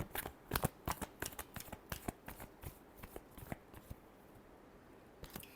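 Tarot cards being shuffled by hand produce a quick run of crisp riffling slaps and flutters, close and fairly quiet, easing off toward the end.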